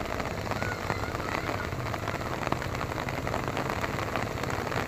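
Steady rain patters over a rice paddy during planting, making a constant hiss close by with faint voices mixed underneath.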